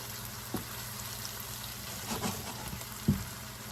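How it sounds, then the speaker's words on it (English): Chicken pieces sizzle softly in a pan while cooking for butter chicken, a faint steady fry with a couple of brief pops and clinks, heard alone without talk. "As the chicken cooks"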